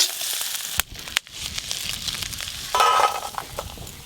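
Crabs frying in a pan with a steady, loud sizzle and crackle, broken by two short dips and a brighter hiss surge near the end, with no talk.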